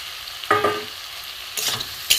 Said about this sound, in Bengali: এটার সাথে একটু কষে নিই মশলার সাথে